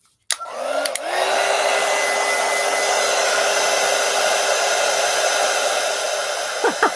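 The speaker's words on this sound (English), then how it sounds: "Let's hit it with the heat tool." A heat tool switches on with a click and blows hot air over a mixed media collage, giving a loud, steady whirring roar that runs nearly uninterrupted to the end.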